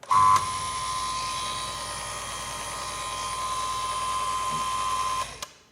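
Heiniger overhead shearing plant gear runs with a steady, loud, high-pitched mechanical whine and motor hum, unbroken for several seconds before cutting off abruptly at the end.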